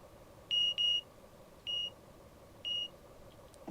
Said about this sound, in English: guards buzzer.